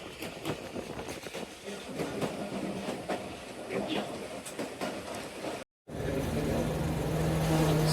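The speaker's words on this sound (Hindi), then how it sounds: "हमारा सफ़र जो है वो जारी व सारी है कसूर रेलवे जंक्शन स्टेशन की तरफ" The Bhully Shah Passenger train runs on the line toward Kasur railway junction, heard from on board as a steady rumble with rhythmic wheel clicks, a brief dropout, then a louder even roll with a faint hum.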